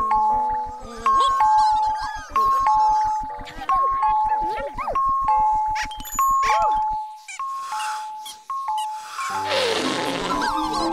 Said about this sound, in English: It's the ding dong alarm.